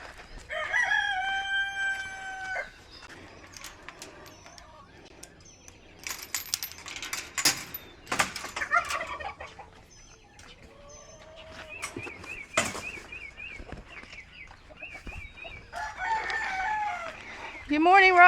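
Chickens cluck and a rooster crows amid scattered chirps and sharp clinks, with brief bursts of activity and quieter gaps in between.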